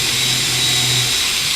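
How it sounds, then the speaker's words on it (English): A power drill runs in one steady, loud, continuous whir during woodworking on a planter, with a broad hiss and a low motor hum throughout. "just bring the drill round to 90 degrees"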